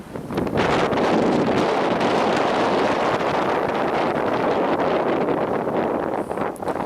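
A sudden gust of wind buffets the microphone outdoors along an icy shoreline, a loud, continuous rushing roar that holds steady for several seconds before easing slightly.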